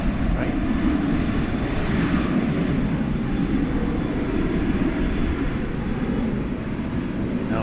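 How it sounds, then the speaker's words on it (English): Steady, loud jet engine roar from a Boeing 787 airliner at DFW airport, a broad continuous rumble holding for several seconds as the aircraft passes, with no clear voices over it. "Here comes a possible Qantas, Turkish, or Austrian 787."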